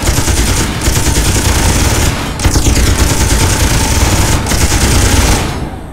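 Rapid automatic weapon fire from a ship in Space Engineers, loud and dense, rattling in sustained bursts with a few brief gaps between them, no talking.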